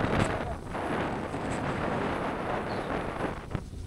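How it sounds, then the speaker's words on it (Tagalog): Steady roaring wind buffeting close to the microphone, continuous low rumble with gusty surges throughout. "Sobrang lakas ng hangin."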